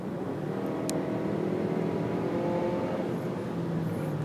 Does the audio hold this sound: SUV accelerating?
yes